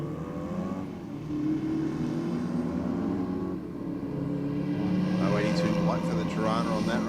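A Ford Falcon drag car accelerates down the strip at Sydney Dragway on a competition night, a loud continuous engine roar rising in pitch as it pulls away, with an announcer talking over it throughout.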